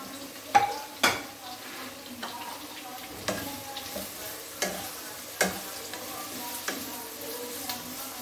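Three medium onions are added to a pan and fry with a quiet, soft sizzle, punctuated by a handful of sharp clinks and taps of a utensil against the pan at irregular intervals.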